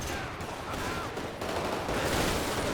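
Gunfire in the video game GTA 5, dense rapid bursts of shots merging into a continuous crackling roar with ricochets, loud and close, no voices.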